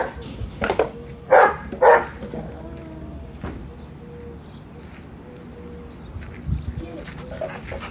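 A pet dog that has grabbed something lets out a few short, close barks and whines amid household noise, with people talking around it.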